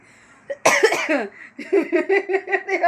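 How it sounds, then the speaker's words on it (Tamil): A single sharp, harsh cough from someone talking at home, close and loud, followed by her voice resuming with rough, halting speech. "நான் பேச ஆரம்பித்தாலே எங்கேருந்து தான் அந்த இருமல் வந்துடுது"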